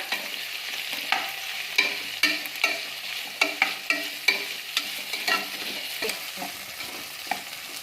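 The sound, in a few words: frying and stirring vegetables for veg pulao in cooker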